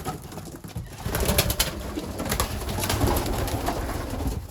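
Young racing pigeons cooing inside a loft, a dense, continuous chorus of low throaty coos from many birds close by, with soft fluttering and shuffling underneath.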